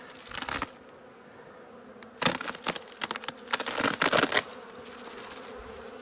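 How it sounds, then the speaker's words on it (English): Honeybees in an overwintered hive box give off bursts of buzzing and rustling, one short burst, a pause, then a cluster of louder bursts before fading to a quiet hum. "you can see a bunch of bees there on my sensor"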